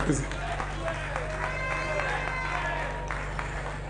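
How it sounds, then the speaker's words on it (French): An audience applauds during a sermon, dense steady clapping from a crowd in a room with a low hum, continuous for several seconds. "Applaudissez très fort."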